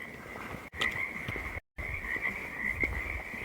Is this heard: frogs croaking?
yes